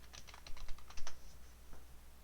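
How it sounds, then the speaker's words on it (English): A short burst of about nine rapid clicks on a computer keyboard is followed by one last key press, close and fairly quiet, with no talking. "Let me see if I can type."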